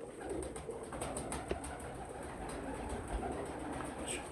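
Pigeons on a rooftop loft coo quietly amid a steady outdoor background hum, faint and somewhat distant, with small scattered sounds of movement.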